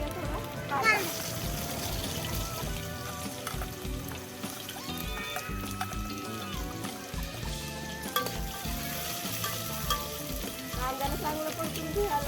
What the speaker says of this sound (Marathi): आता आपण त्यात टाकूया थोडं कांदा.